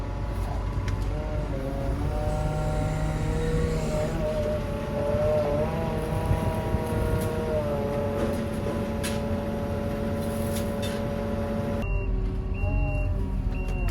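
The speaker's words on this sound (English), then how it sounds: "Six minutes to empty a tractor onto a bulker." A tractor and trailer emptying potato-field planings onto a bulker make a continuous heavy engine drone with shifting whine, mid-distance and steady, while a reversing alarm beeps intermittently.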